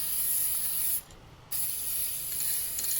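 Black paint sprayed from an aerosol can onto a 1953 Les Paul guitar body, a steady close hiss that breaks off for a half-second pause, then resumes evenly.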